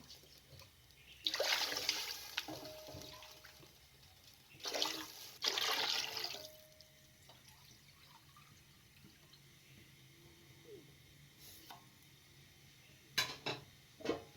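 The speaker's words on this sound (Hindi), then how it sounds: "अब इसके अंदर 1 लीटर पानी शामिल कर दें।" One liter of water poured into a cooking pot of light-browned onions for daal: two loud, splashing bursts of gushing liquid with a few clinks of metal between them and soft drips afterward.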